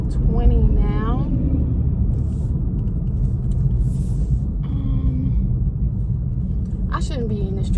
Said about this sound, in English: I shouldn't be in this traffic much longer.